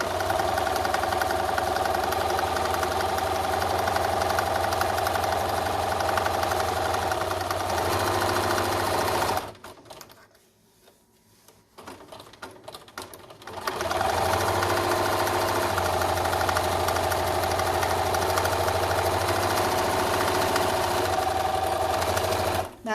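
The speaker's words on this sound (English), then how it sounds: "I do like to back stitch at the beginning and end," A home sewing machine back stitching on a concealed carry belly band, its motor running in a steady close mechanical whir, pausing for a few seconds mid-way before stitching resumes at the same even pace.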